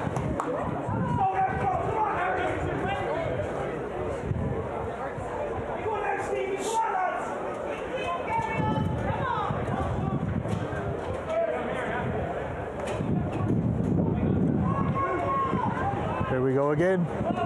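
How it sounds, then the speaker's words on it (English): A rugby crowd in the stand at Donnybrook during an AIL Division 1A/1B promotion playoff semi-final, a constant murmur of many voices and scattered shouts around the ground, with a nearby voice talking over it. "Just take a minute to hear the crowd in the stand here."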